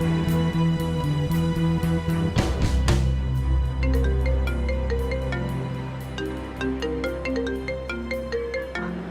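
A mobile phone ringtone plays loud and close, a looping electronic melody of repeated bright tones that continues steadily for several seconds.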